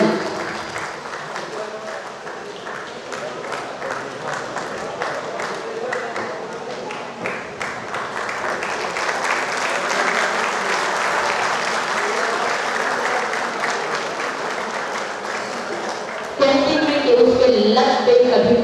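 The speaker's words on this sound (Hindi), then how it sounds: "बहुत जोर से तालियों का हमें शोर इनके कानों पर जाना चाहिए" An audience at an honour ceremony claps steadily, the applause swelling gradually and then rising sharply near the end, with some speech over it.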